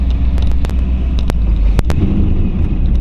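1938 Ford two-door bustle back sedan retro-rod with a flathead V8 pulling away in second gear, a low steady rumble close by with a few sharp clicks or knocks on top, no talking.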